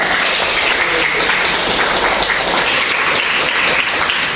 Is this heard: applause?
yes